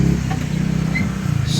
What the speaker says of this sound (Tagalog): Makinis ang makina nitong unit ito.